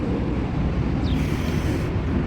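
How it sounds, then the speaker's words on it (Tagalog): Steady, loud wind on Deira Island roaring across the microphone as a continuous rushing noise with no pauses. "Lakas ng hangin."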